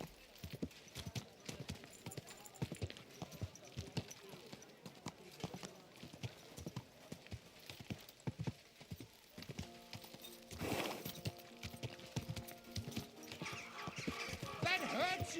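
Horse hooves clip-clopping at a slow walk in Kingdom Come Deliverance 2, steady rhythmic thuds close by, with someone talking over them and a brief whinny-like burst near the end.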